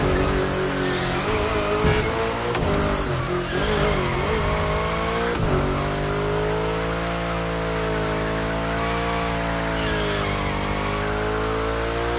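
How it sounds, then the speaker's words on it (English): A car drifts in the video game Rocket League: a loud, continuous engine roar wavers in pitch while tires squeal and skid throughout, close and with no speech over it. "That's right, keep drifting."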